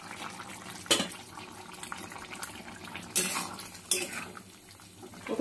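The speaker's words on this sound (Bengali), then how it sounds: "এবার ঢাকনটা খুলে নেব।" A metal lid comes off a pot of vegetarian Bengali dalna, sharp clanks and scrapes standing out in three or four distinct bursts against a quiet kitchen background, with no talking.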